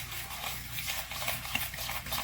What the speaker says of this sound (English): Then I come in here and I mix it with the sugar